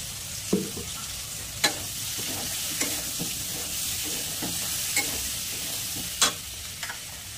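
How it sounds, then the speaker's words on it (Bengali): Vegetables crackle and sizzle in a hot pan while being stirred with ground cumin, chilli and turmeric, a continuous close frying hiss broken by several sharp spoon clacks and scrapes, with no voices. "আর এদিকে কিন্তু সবজিও প্রায় ভাজা হয়েছে।"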